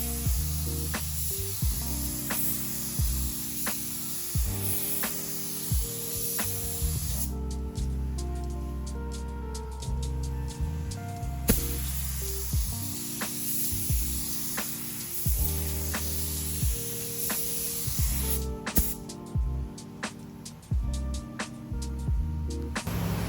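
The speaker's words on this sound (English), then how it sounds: "I'm gonna clear coat this little wing here that I'm painting for another project." Steady hiss of a spray gun laying clear coat on a small car wing during a carbon hood and trunk restoration, continuous and fairly loud, with brief pauses and trigger changes.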